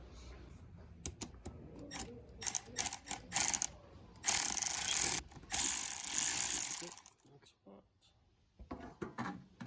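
A ratchet tightens hose clamps on a Chevy Silverado during a catback exhaust install, producing short clusters of sharp clicks followed by longer, louder runs of rapid ratcheting, then quieter pauses and a few final clicks.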